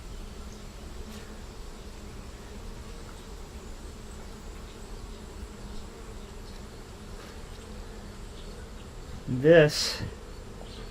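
Honey bees working a brood frame, with a low steady hum of buzzing and one close, louder buzz as a bee passes near, followed by a single spoken word.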